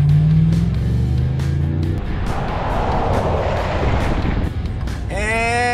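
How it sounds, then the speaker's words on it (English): A Chevrolet Silverado pickup truck with worn stock brakes roars steadily as it accelerates toward 60 mph, with loud road and wind rush throughout and a rising whine near the end. "We're gonna accelerate to 60 miles an hour"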